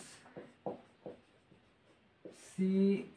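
A pen writes a formula for the volume of a gas cylinder, giving soft, brief scratching strokes in short bursts close by, followed by a louder rubbing scrape at the end, with some speech around it.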